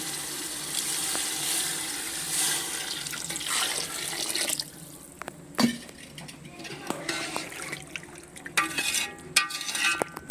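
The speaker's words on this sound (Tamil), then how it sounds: "ஒன்றுக்கு ஒன்றரை ஊற்றுங்க கரெக்டாக இருக்கும் தண்ணி" Water streams steadily into a pot of chicken biryani for several seconds, then stops, followed by scattered clinks and small kitchen knocks.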